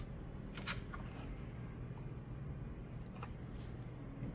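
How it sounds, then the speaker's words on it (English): A large Pastoral Tarot deck is shuffled close by, giving a few soft, brief papery riffling bursts spaced out over a quiet background with no talking. "I zoomed out so that you can see how this deck shuffles."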